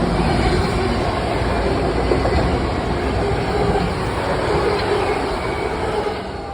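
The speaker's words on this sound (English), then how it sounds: "Long Island Railroad M3. That's nope, it's a Ronkonkoma train." A Long Island Rail Road Ronkonkoma train made up of M3 cars passes close by, a loud steady rumble and rush of rail noise that holds throughout with no speech.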